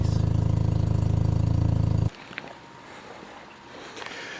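Old FC engine idling roughly with leaky exhaust gaskets and puffing smoke, a loud steady rapid chug for about two seconds before it cuts off into quiet background.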